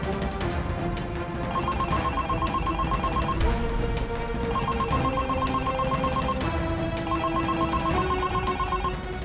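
A telephone rings repeatedly in regular bursts of a trilling bell tone with short pauses between them, steady and fairly loud over a soft background hum, with no voices.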